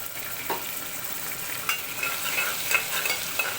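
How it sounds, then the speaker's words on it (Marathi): Green chillies sizzle in hot oil for a fasting-style misal, a faint steady frying hiss broken by a few light stirring clinks and scrapes. "आपल्याला हे थोडस मिरची तेलावर परतून घ्यायची आहे"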